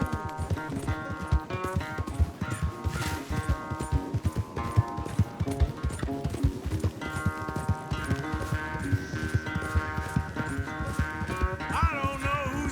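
Horse hooves pound in a fast, steady clip-clop gallop during a race in Red Dead Redemption 2, with occasional whinnies over layered game music and ambience.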